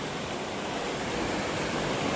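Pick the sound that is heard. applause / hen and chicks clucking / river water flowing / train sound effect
river water flowing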